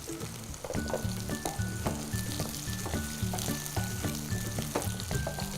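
Onions and green chilies sizzle steadily in a hot pan for eggplant with basil, a continuous close frying hiss broken by regular scraping and stirring knocks, with no voices.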